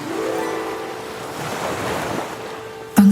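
Ocean waves surge and roll steadily as a Bible-story sound effect for the sea swallowing the Egyptian army, a continuous washing roar with a sharp burst near the end.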